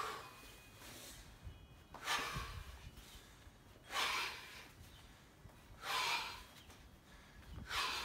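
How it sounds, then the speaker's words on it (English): Heavy breathing during a kettlebell swing micro-workout: four loud, rhythmic exhales about every two seconds, close to the microphone, with quieter breathing in between and no talk. "Now I'm breathing."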